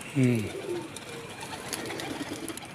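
A blue-eyed female pigeon gives a low, throaty coo up close, followed by quieter rustling and faint background noise.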